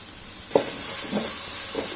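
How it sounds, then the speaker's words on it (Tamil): Cauliflower sautés with salt in a hot pan, giving a continuous hissing sizzle close by, with a few soft stirring knocks and shuffles spaced through it. "இப்போ நம்ம தேவையான அளவுக்கு உப்பு நம்ம போட்டு ஜஸ்ட் ஒரு 30 செகண்ட்ஸ் நல்லா வதக்கி விட்டா போதும்."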